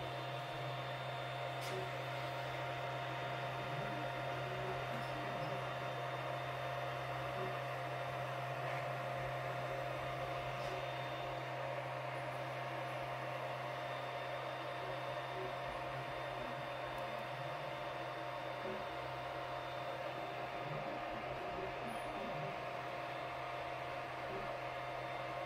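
A 3D printer printing, a steady faint mechanical hum with a constant tonal drone that holds unchanged throughout.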